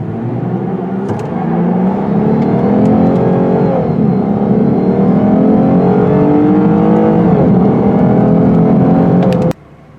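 2020 Lexus IS 350 accelerating hard with traction control off, a loud close engine roar rising through the revs with audible gear shifts, then cutting off abruptly near the end.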